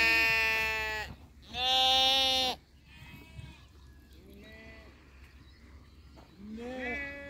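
Sheep bleating in a large flock of about 550 ewes offered for sale, two loud close bleats followed by quieter overlapping calls from the pen, over a constant low background hum.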